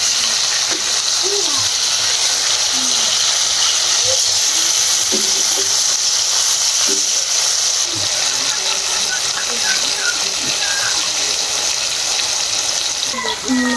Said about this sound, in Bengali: মাছটা উল্টে দেব। উল্টে দিয়ে আর এক সাইড ভাজবো।